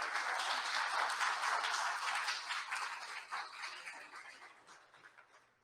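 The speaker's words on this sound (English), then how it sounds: "can we give a round of applause?" Audience applause for American Sign Language interpreters at a tribunal opening session, a broad burst of clapping that starts full and gradually thins and fades toward the end.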